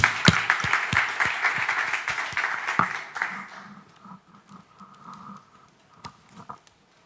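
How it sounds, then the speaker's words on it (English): Dense audience applause after a talk on digital asset custody, loud and steady for about three seconds before thinning into scattered claps and quiet room murmur. "second round of applause then"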